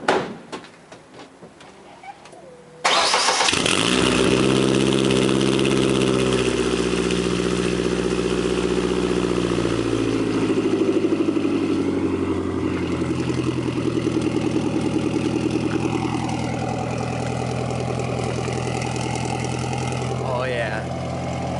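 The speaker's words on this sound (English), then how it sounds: "we're about to hit it with the first start exhaust clip" Drift truck engine on its first start with a new exhaust: a short cranking burst, then the engine catches and settles into a loud, steady idle with a few light revs.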